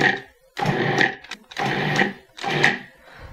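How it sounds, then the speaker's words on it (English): A food processor pulses shortleaf Crisco shortening and flour together for a lemon meringue pie crust, three loud mechanical bursts about a second each with brief pauses between, close and alone. "you're going to combine your fat with the flour by pulsing a couple times"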